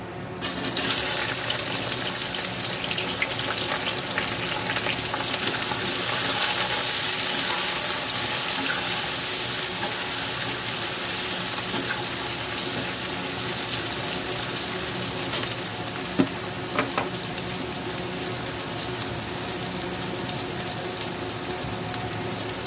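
Onions sizzle in hot spiced oil, a loud steady hiss and crackle that carries on unbroken, close up, with a single sharper pop partway through.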